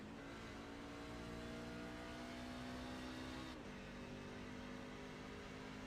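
Race car engine in the Sim500 Midnight Thunder sim race at Phoenix, a steady high-pitched drone that drops in pitch partway through as the car shifts down, fairly quiet and with no voices.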